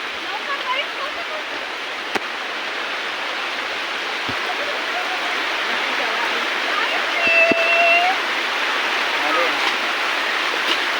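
The Dhanagar waterfall, a hidden waterfall near Mumbai, roars in a steady, full wash of falling water, constant and close, with a brief faint tone near the end.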